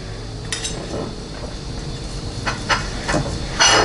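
A knife carves a rotisserie-cooked whole chicken, made in a NuWave Brio 14Q air fryer oven, giving a few sharp scraping and clinking strokes against a board or pan, close up with a quiet background hiss.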